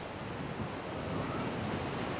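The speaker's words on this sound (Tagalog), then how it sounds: "Lumakas ang alon sa dagat." Sea waves at Fuga Island roar in a steady, continuous wash, with wind buffeting the microphone throughout.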